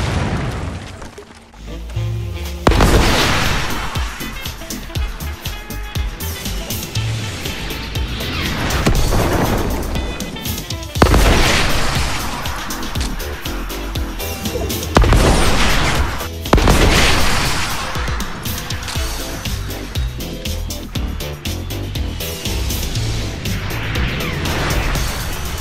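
Rocket blasts in a first-person shooter game, a string of loud booming explosions at irregular intervals over continuous battle noise and rumble.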